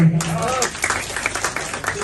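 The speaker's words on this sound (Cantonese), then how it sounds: "俾啲掌聲自己先" Banquet audience at a property management and security trainers' association inauguration and spring dinner in Hong Kong applauds, a dense burst of clapping that holds steady for about two seconds with a little voice mixed in.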